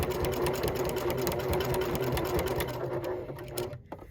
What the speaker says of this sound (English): we're going to stitch back and forth a couple of times